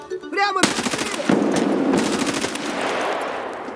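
Rapid automatic gunfire from a weapon in the video game Escape from Tarkov, a loud sustained burst of shots ringing out with a sharp initial crack, no talking.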